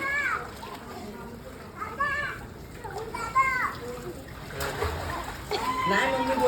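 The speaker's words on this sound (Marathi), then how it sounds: "आता पाण्यात उडी मारणार आहे" A child jumps into water, raising a splash with excited children's voices around it; the broad splash bursts out near the end over steady background noise.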